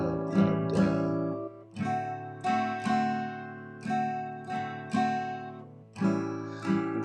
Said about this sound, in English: This is your typical 12-bar blues in A.